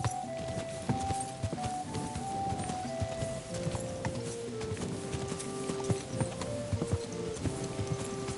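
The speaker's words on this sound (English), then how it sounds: "Your horse nearly trampled me!" Horse hooves clip-clopping in Kingdom Come Deliverance 2, a steady rhythmic trot with a brief whinny, set against busy in-game ambience and background music.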